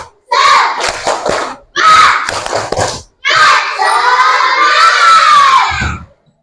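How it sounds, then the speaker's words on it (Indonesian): A group of children clap and cheer loudly for a classmate named Alifa Keisha, with three bursts of shouting and clapping, the last one long and sustained before it stops abruptly. "Kasih tepuk tangan untuk Alifa Keisha"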